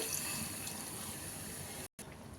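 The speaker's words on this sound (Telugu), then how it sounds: "ఇంకా వాటర్ వేసేసుకోవాలి." Water pours into a pan of tamarind tomato curry in a steady, close, rushing stream that cuts off abruptly near the end, then resumes faintly.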